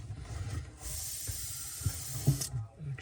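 Air hisses steadily out of a freshly cut water supply pipe under a bathroom sink during a faucet install, a broad rushing hiss lasting under two seconds, with a few light knocks and handling sounds around it.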